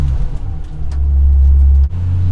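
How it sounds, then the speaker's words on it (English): A rally car powers up the access road at Cadwell Park, its engine a loud, close, low droning rumble that builds steadily before a brief dip, like a gear change, then carries on, with no voices. "But we actually go up it in a rally car, on a rally"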